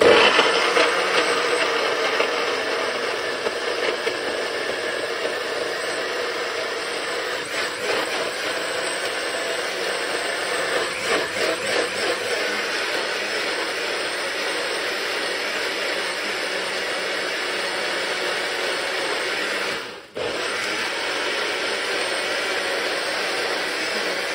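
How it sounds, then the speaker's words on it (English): A noisy kitchen blender whirring through a beet smoothie, a loud steady motor roar that runs without pause, with a brief dip near the end before it resumes. "We don't have a smooth blender, so we're gonna have to use a noisy one."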